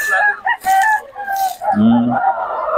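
A sweater-hatch mix rooster crows loudly and close by, with clucking from other fowl around it and a person talking at the same time.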